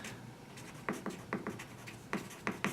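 A pen scratches out handwriting in short, close strokes with small pauses between words, heard alone and fairly quiet.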